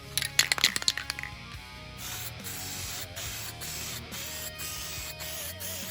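Aerosol spray paint hissing in steady bursts as a second coat goes onto model railway track, preceded by a few sharp clicks and rattles of the can being shaken, close and fairly quiet.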